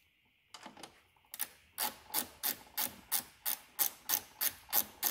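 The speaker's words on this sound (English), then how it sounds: "Ratchet wrenches are very nice." A ratchet wrench runs a 10 mm nut down onto a stud on a Jeep winch relay setup, giving a close, loud, regular series of rasping clicks in quick rhythmic strokes after a brief fumble at the start.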